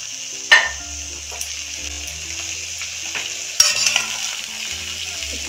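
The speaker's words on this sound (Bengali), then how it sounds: "একটু তেলের সঙ্গে পেঁয়াজের সঙ্গে মিশিয়ে নিচ্ছি।" Radish tossed into onions frying in oil crackles with a loud, steady sizzle close by, broken by a couple of sharp spatula knocks against the pan as it is stirred.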